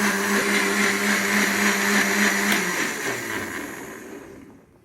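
A blender grinds mint leaves for mint juice, a loud steady motor whir that runs for a few seconds, then winds down and fades out as it stops.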